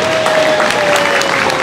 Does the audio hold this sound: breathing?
no